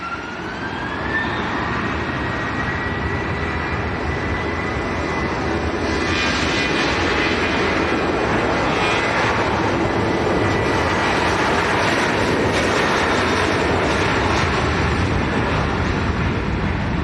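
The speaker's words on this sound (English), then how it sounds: "Ryanair to Dublin." Ryanair airliner taking off from Leeds Bradford Airport for Dublin: a loud, sustained jet roar with a rising whine that builds and broadens as it powers up, close by and uninterrupted by voices.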